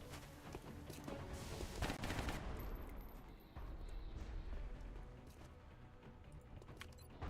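Quiet burst of rapid gunfire and impacts from a gunner firing in XCOM Long War, a clattering volley that fades into softer scattered cracks, with no talking.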